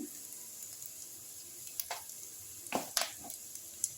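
Onions fry softly in a pan with a low steady sizzle, broken by a few clinks and scrapes of stirring.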